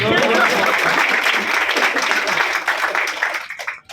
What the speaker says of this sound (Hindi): लेकिन ताली आपने बराबर बजाई